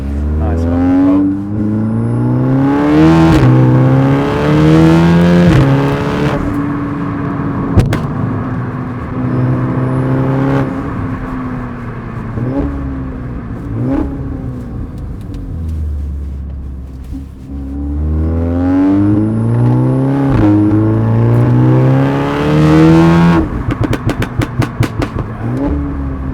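An Audi S3 tuned to 520 bhp and 620 Nm of torque accelerates hard on an open road, its engine rising through repeated revving climbs and gear changes, loud and close, with crackles near the end and someone talking over parts of it.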